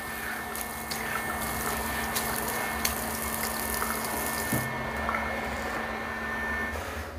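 Water from a tap running and splashing into a vessel sink after a leak repair, a steady continuous wash of flow heard close up with no talking.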